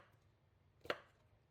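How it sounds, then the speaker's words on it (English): A single crisp knife chop through skin-on potato, one short loud knock against a cutting board with quiet kitchen background before and after. "So I am chopping this. I'm leaving the skin on,"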